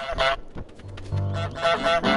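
A video game goose lets out a few nasal, brassy honks in quick bursts, fairly close and loud, mixed with other game sounds.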